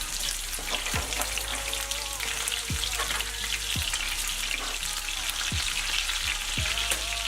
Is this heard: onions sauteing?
yes